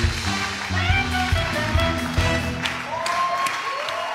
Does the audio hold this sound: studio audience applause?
yes